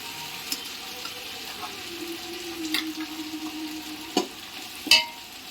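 Green paste fries uncovered in a pan for chicken donne biryani, making a low, steady sizzle broken by a few sharp spoon taps and scrapes against the pan.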